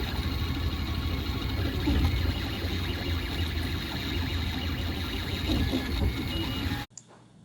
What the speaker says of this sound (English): we're printing, in this case, one of those filaments, little astronaut character. It's zipping back and forth,